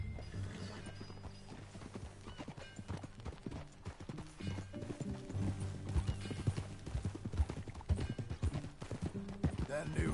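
Horse hooves clip-clop at a steady trot in the western game Red Dead Redemption, rhythmic and fairly close, with a horse whinny and voices talking over the riding.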